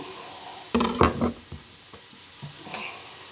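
Leafy green and white vegetables hit a hot frying pan for a stir fry, giving a soft sizzle under a few close clattering stirs and scrapes of a utensil against the pan.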